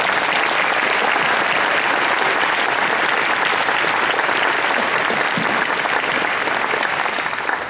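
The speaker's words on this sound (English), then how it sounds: "Please give him a big round of applause." A large festival audience applauds steadily and loudly throughout, a dense wash of clapping with no pauses or talk.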